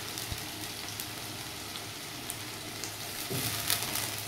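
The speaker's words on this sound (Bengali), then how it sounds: "এরপর এটা আমি আস্তে আস্তে নেড়ে চেড়ে এটাকে ভেজে নেব" Chopped carrot pieces fry in a pan while being stirred, giving a steady close sizzle with soft scraping that swells slightly toward the end.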